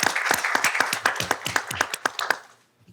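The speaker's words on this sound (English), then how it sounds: "let's give him a round of applause, please." Audience at a school board meeting claps in a sustained round of applause, individual hand claps distinct and rhythmic, tapering off and fading to near silence by the end.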